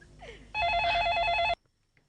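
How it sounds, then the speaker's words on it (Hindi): A telephone rings with a single sharp electronic trill lasting about a second, then cuts off into near silence. "जरूर श्रीवास्तवा जी का फोन होगा।"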